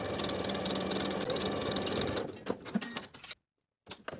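A sewing machine basting pinned fabric sections for the front and back of a wrap top, running in a steady close mechanical whir that stops abruptly, followed by a few soft clicks and handling sounds.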